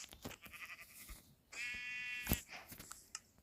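A sheep in the video game Craftsman 5 gives a single drawn-out bleat, mid-level and clear, between scattered clicks and game sounds.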